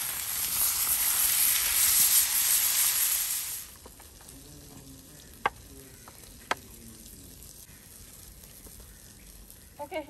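Masala-coated fish fries in oil in a pan, a loud hissing sizzle for a few seconds that abruptly drops to a faint background crackle punctuated by a couple of sharp clicks or taps.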